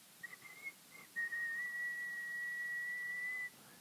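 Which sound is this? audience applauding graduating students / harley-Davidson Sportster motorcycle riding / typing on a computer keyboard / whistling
whistling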